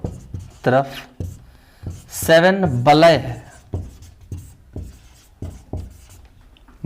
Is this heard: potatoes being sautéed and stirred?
no